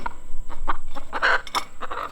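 A caged chicken being readied for 4-H showmanship clucks repeatedly in short, loud bursts, close by, with a steady background hum and no talking.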